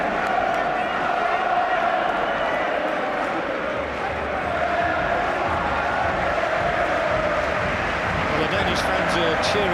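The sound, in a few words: Turkey football fans cheering at Euro 96 match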